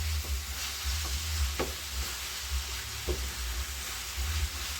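Cabbage fries in a pan over full heat with tomatoes, giving a steady crackling sizzle and a few sharp utensil clicks against the pan, close and continuous, with no voices.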